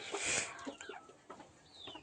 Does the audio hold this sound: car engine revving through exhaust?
no